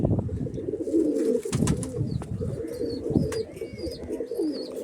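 Pigeons in a closed loft, deep-coloured German-type birds, coo in a steady layered chorus, close and loud, with soft flutters and scattered chirps woven through.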